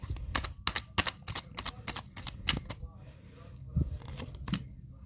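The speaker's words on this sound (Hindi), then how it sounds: "Last shuffle." Tarot cards being shuffled by hand, a run of quick crisp flicks and riffling clicks close by, with a short pause before a few final snaps.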